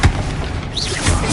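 A Confringo blasting-spell explosion in a PS5 game: one dense, loud boom with a brief rumbling tail, heard alone without talk.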